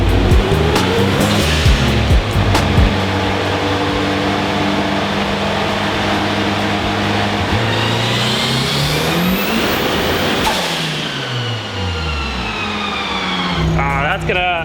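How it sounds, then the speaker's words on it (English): A boosted, high-compression stock 1.6 car engine on a shop dyno, revving loudly upward in a sustained rising drone, falling away near the end before climbing again, with a voice mixed underneath. "as soon as it made 190 horsepower, it started spinning the dyno"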